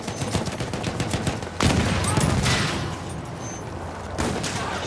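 Enemy machine gun fire in the World War I shooter Battlefield 1, a dense continuous stream of rapid shots with a louder burst midway, heard alone without talk.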